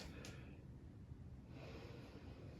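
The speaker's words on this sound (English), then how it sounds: "open your mouth on the exhale to release a little bit of excess heat" Open-mouthed exhales during an active yoga class, two breathy audible breaths close by, the second longer and heavier, with no talking.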